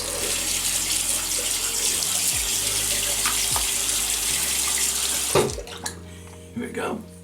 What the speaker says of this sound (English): I'm going to put a little water on my face.